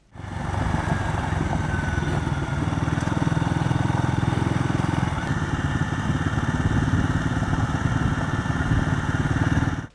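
A motorcycle rides through the Watagans forest near the Turpentine camping area, its engine a loud continuous close drone with a rapid throbbing pulse for the full ten seconds.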